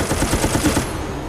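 Rapid bursts of automatic gunfire in the Resident Evil shooter Operation Raccoon City, a dense volley of shots crackling loud and close for under a second before fading into game noise.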